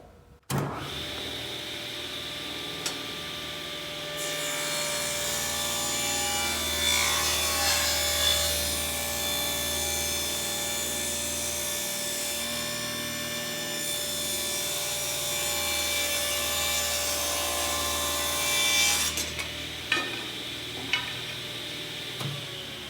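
Table saw cutting a wooden board for a serving tray end piece, a steady motor hum with a rising rough rasp as the blade passes through the wood for about fifteen seconds.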